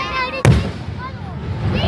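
A single sharp firework bang cracks at an outdoor fireworks show, followed by a fading rumble, with crowd noise and chatter around it.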